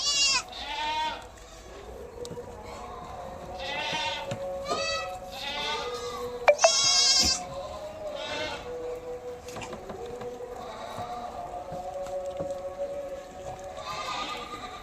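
Boer goats bleat repeatedly on a farm, several loud nearby cries scattered among quieter distant calls over a steady outdoor background, with no talking.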